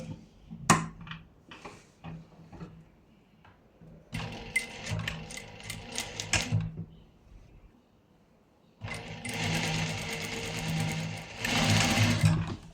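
A sewing machine stitches a tuck in a blouse. Several short bursts of stitching come first, then a longer run and a final sustained run, with quiet handling pauses between them and no voices.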